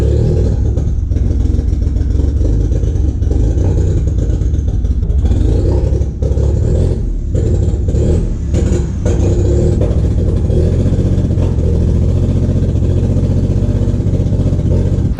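A Mitsubishi 3000GT VR4 engine runs roughly during ignition timing tuning, apparently on old fuel, holding a loud, continuous, uneven idle with flutters and clatter throughout.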